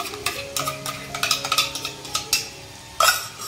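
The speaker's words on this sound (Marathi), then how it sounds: "टोमॅटो प्युरी घालते." A spoon scrapes and clinks against a pan while tomato puree is stirred into frying masala, with a series of soft irregular knocks and one louder clatter near the end.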